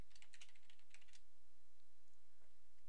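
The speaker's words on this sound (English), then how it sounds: "So if I type 56 in here" Computer keyboard typing during data entry into a spreadsheet cell, a quick burst of light clicking keystrokes early on, then sparse faint taps over low background hum, no voices.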